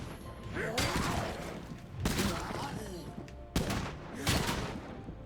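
Gunfire in State of Decay 2 as zombies are shot, bursts of loud shots and impacts in several clusters over steady game noise, with a voice talking throughout.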